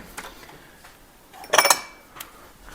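Ground sage being stirred in a small container: a few light clinks and scrapes, then a brief louder rattle of a utensil against the container's side, close by and with no talking.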